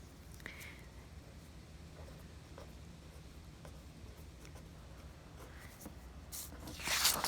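Pen scratching out words on paper during an art lesson, tracing lettering around the outline of an apple; a steady, soft, close scratch that runs on and off throughout, growing slightly louder near the end.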